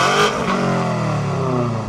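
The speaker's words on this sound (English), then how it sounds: "Let's check out the sound of my weight-saving Akrapovic exhaust" A BMW fitted with a weight-saving Akrapovic exhaust revs hard and close, its loud, raspy engine note holding steady and climbing slightly over two seconds, with no talking.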